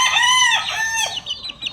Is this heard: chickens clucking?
yes